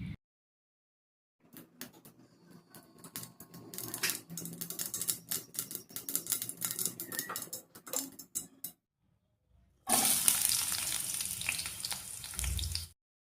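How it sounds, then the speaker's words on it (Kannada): Mustard seeds in hot oil in a thick-bottomed pan give a dense run of sharp, ticking pops for several seconds. After a brief pause a louder, steadier sizzle follows, all close and without talk. "ಬಿಸಿ ಎಣ್ಣೆಯಲ್ಲಿ ಸಾಸಿವೆ ಚಿಟಪಟ ಅಂತ ಸೌಂಡ್ ಬಂದ ನಂತರ"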